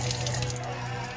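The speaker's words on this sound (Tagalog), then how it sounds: "ito yung gripo," Water runs steadily from a faucet in a small home kitchen, a close, even hiss of flowing water with a low hum underneath, continuous for the whole brief moment.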